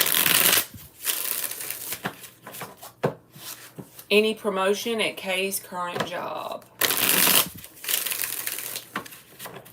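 Cards are riffled and shuffled in several quick bursts, crisp and close, between stretches of a person speaking.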